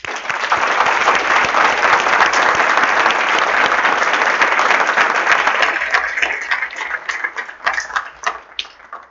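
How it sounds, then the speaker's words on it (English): A capstone game presentation audience gives a round of applause for student games: dense clapping that is loud and sustained, then thins into scattered claps toward the end. "So I want to give a round of applause to these games."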